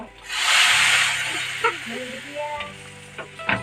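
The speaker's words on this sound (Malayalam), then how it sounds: "കാച്ചി ഒഴിക്കുകയാണ്." Hot tempering poured into a simmering fish curry sets off a loud, sharp sizzle that swells at once and then fades into softer crackles and pops.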